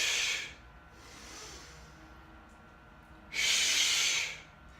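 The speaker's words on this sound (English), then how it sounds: "Now I breathe like this, because every time I make that sound, my abs are contracting without me having to try." Sharp, forceful hissing exhales during a boxing and core workout, two strong bursts at the start and near the end with a softer breath between, close and alone.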